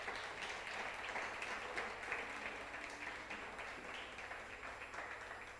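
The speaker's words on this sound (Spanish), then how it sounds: "Dele un fuerte aplauso al Señor" A church congregation at a retreat service applauds, a faint, steady patter of many hands clapping that continues evenly throughout, distant and low in level with a low hum underneath.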